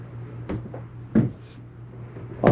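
A few short knocks and clacks sound as a door in a 2016 Open Range Light 318RLS travel trailer snaps open, quiet and near, over a low steady hum.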